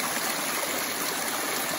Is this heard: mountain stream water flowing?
yes